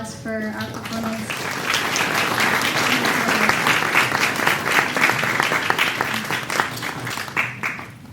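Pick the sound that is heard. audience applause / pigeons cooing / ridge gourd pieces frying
audience applause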